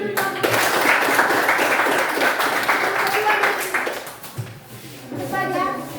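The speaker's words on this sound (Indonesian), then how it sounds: "Ya, tepuk tangan dulu." Classroom audience clapping after a teacher's presentation, a brief burst of applause that fades, with voices talking over and after it.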